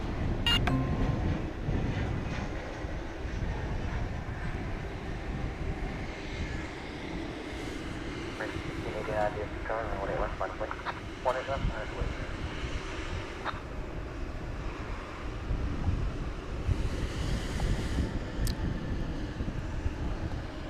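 Airplane jet engines rev up at DFW airport, a sustained loud broadband roar with low rumble holding steady throughout, heard from a distance with no talking.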